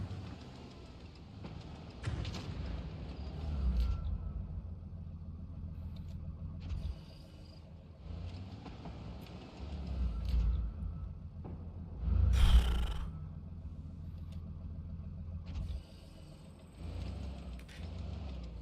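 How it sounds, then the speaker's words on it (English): A tank engine in a video game idles with a low, steady rumble, joined by mechanical creaks and clanks and a brief louder clatter, fairly quiet and without voices. "this sound as well, like the engine simply running sound, also sounds terrible"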